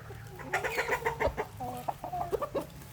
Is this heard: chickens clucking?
yes